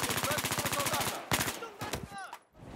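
Rapid automatic gunfire in Battlefield V, a fast even burst of close, loud shots followed by a few scattered single shots and echoing tails, with a voice briefly heard.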